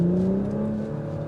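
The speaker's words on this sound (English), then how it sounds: "you get a little bit of a throaty exhaust note" A 2022 Audi S5 Cabriolet pulls away in comfort mode with a throaty exhaust note, a steady, fairly loud engine drone heard from inside that rises slightly in pitch.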